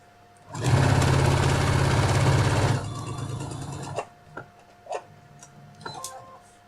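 A sewing machine runs in a fast, loud burst of rapid needle stitching on a fabric phone case for about two seconds, then slows and stops, followed by scattered soft clicks and handling noises.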